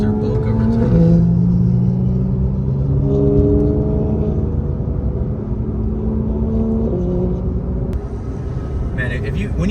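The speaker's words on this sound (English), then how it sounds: "when you put an exhaust on a Turbo S, they actually can sound pretty mean, especially the pops and bangs" A Porsche 911 Turbo S with an aftermarket exhaust drones and revs nearby, pitch climbing and falling through gear changes, a deep throaty roar throughout with a crackle near the end.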